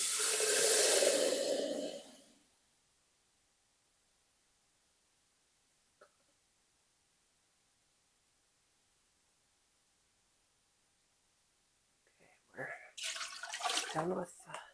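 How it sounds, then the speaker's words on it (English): A kitchen tap runs loudly for about two seconds while water is drawn for home canning, then shuts off into long quiet, and people talk near the end. "I'm going to get some more water."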